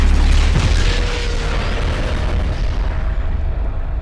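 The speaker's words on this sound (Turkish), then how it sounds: "Bu yine patlayacak mı? Evet abi patlayacak." A tank blows up in the Garry's Mod video game: a loud, deep boom at the start that rolls into a long rumbling decay, heard alone without talk.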